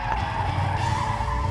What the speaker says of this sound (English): the very first donuts done on an automotive TV show